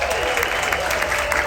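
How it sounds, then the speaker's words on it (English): Dense, continuous applause from a large crowd at a final talk aboard a cruise ship, loud and unbroken, with some indistinct voices and cheering mixed into the clapping. "applause going for Tony with La Liga Loca"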